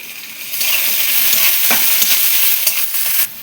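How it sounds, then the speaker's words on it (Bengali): Onion and garlic fry in a little oil in a pan on the stove, a loud steady sizzle with occasional scraping stirs. "পেঁয়াজ রসুন ভাজা হয়ে গেছে"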